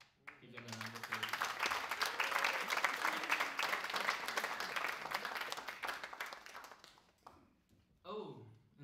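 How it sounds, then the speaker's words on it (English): An audience applauds a band after a final university drum recital, a dense burst of clapping that swells for several seconds and then fades, with a voice talking briefly at the start and again at the end. "Give them another applause."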